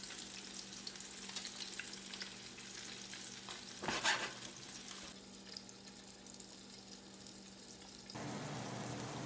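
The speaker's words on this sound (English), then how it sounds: "I prefer to saute them in butter and garlic" Milkweed pods sauté in butter and garlic with a steady, dense sizzle throughout, broken midway by a brief stirring clatter and rising slightly louder near the end.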